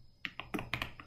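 Parameters typed on a computer keyboard in a quiet room: about seven or eight quick, close key clicks in a loose rhythm over roughly a second.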